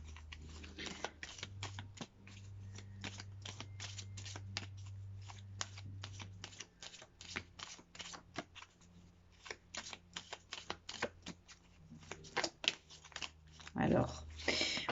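Tarot cards being shuffled by hand, a dense, steady flurry of close papery flicks and snaps that thins into scattered taps, with a few louder slaps toward the end.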